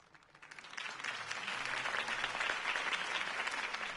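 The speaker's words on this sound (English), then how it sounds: "could have heard that applause" In the Batman Telltale video game, a crowd breaks into applause that swells within a second and holds at a steady, dense clatter of many hands.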